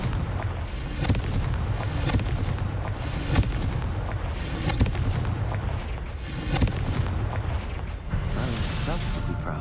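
Repeated fiery spell blasts from the Confringo curse in the Hogwarts Legacy video game, dense booming bursts layered over continuous rumbling battle noise, with a voice calling out spells amid the chaos.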